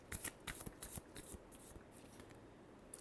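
Tarot cards are shuffled by hand in quick soft riffles, close and quiet, the flicks thinning out toward the end with no speech.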